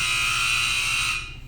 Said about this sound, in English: There's a buzzer.